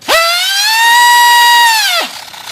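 Piercing, high-pitched turbine whine from an F-16 UMX RC jet at full throttle rises sharply, holds loud and steady for nearly two seconds, then drops off abruptly.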